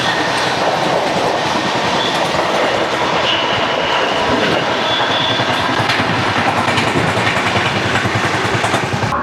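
Shalimar–Charlapalli East Coast Express, train 18045, arriving: a loud, steady roar of rolling wagons with rhythmic wheel clatter and faint squeals, continuous and close for the whole stretch, no talk.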